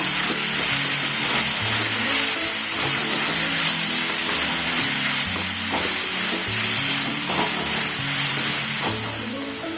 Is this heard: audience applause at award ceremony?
no